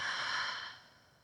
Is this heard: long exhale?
yes